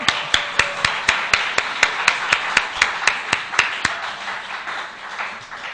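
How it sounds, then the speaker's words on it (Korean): A congregation at a weekday church service claps in unison, about seventeen sharp, evenly spaced beats at a brisk steady rhythm, loud and close, fading slightly at the end. "박수"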